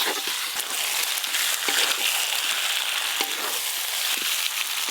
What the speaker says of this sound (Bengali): চিকেন একদম কড়াই পড়ে গেছে, জোর কদমে এখন কষানো চলছে।